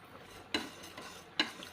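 Moong dal being dry-roasted in a pan, with two brief scraping stir strokes and a faint grainy rattle over a quiet background.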